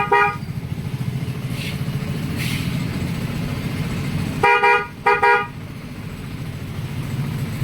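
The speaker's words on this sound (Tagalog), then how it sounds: "As yung busina nya." A Vespa Primavera 150 scooter with lowered front shock sounds its horn: two short, bright electric beeps in quick succession over a steady idling engine and traffic hum.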